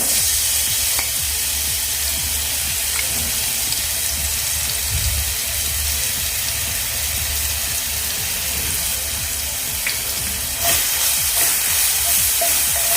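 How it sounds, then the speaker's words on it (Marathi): Garlic cloves and green chillies fry in hot oil, a steady, close crackling sizzle with faint stirring scrapes that carries unbroken throughout, with no talk over it. "आता आपण हे पहिल्यांदा फ्राय करून घेऊया तेलावर"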